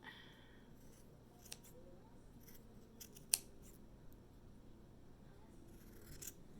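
Scissors snip a strip of black wool, a single crisp cut standing out with a few fainter snips in a quiet room.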